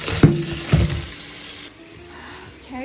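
Hot water runs from a kitchen tap to thaw frozen chicken, a loud broadband rush with a couple of thumps early on, then the flow cuts off abruptly partway through, leaving quiet room tone.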